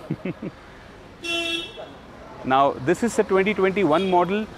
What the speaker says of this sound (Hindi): इसके अंदर सिक्योरिटी सिस्टम भी लगा हुआ है